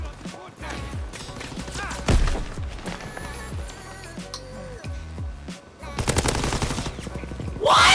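Rapid machine gun bursts rattle through a video game firefight, loud and close, with scattered impacts, crunches and louder volleys near the end, and a faint voice now and then under the shooting.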